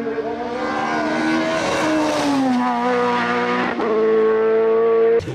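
A Reinhardt 01L Formula 3000 single-seater climbs a hill-climb course, its engine screaming loud and close with rising and falling revs through gear changes and a brief lift near the end.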